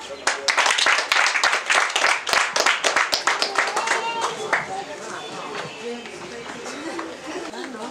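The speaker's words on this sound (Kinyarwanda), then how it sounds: "tumwongera amashyi" Applause at a graduation ceremony bursts out as a loud crowd clapping that fades into scattered claps and murmuring chatter over several seconds.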